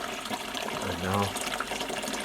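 Homemade dry beer runs fairly fast through a filter, a close, splashing trickle of liquid with a brief fuller gush midway, while someone talks over it.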